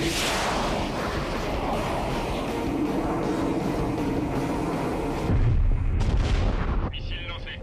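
A missile launch in an action movie: a loud, sustained roaring rumble with a heavy blast swelling near the end, then a sharp cutoff into quieter sounds.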